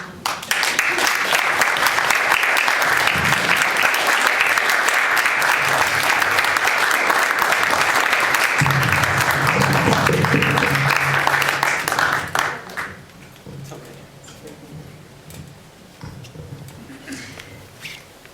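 At a poetry reading, the audience breaks into loud, dense applause that holds steady for about twelve seconds, then drops off sharply to scattered claps and room murmur with some talking.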